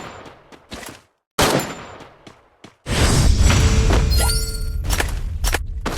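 Gunfire in the Free Fire video game comes as sharp shots and thuds, first in separate cracks and then as a dense, loud, sustained burst of firing that fills the second half.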